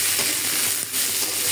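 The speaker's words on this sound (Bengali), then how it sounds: "আমার পেঁয়াজ রসুন শুটকিটা কিন্তু ভাজা হয়ে গেছে।" Dried fish (chepa shutki) frying with onion and garlic in a pan gives a continuous, close, bright sizzling hiss, steady and uninterrupted.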